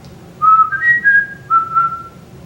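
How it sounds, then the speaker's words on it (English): A person whistles a short melodic phrase of several clear, sliding notes, close and fairly loud over a quiet background. "But I am really super duper proud of my whistle."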